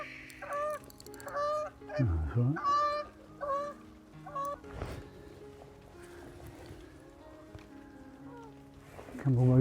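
Geese honk repeatedly in loud, nasal calls near a carp-fishing lake, with a man's brief remark and quieter calls continuing in the background.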